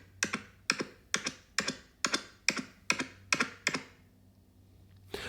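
Fingertip taps on a RODE Wireless ME mic transmitter, about nine sharp, close knocks in an even, quick rhythm, followed by a short quiet pause and one last faint tap.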